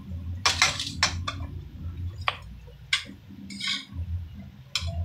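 Onions are moved onto a plate: a series of sharp clinks and scrapes of utensil against dishware, irregular and close, over a low background hum.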